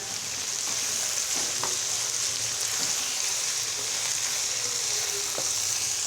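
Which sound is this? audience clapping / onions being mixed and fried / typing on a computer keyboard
onions being mixed and fried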